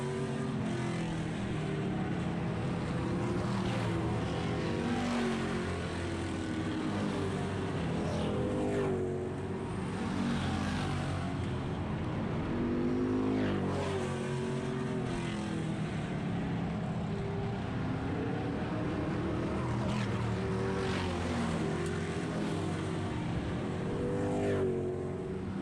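Outlaw street stock race cars roar around a speedway in a continuous loud drone, engine notes swelling and fading as cars pass, heard from a distance with crowd-level ambience.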